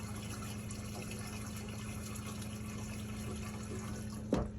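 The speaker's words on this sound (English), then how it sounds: "You might be able to hear the water pump run." A steady low hum with a fixed tone runs throughout, an RV water pump working during a bleach sanitizing flush of the water system. Near the end there is a brief louder bump.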